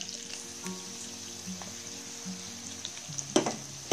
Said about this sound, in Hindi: ये हमारा प्याज फ्राई हो चुका है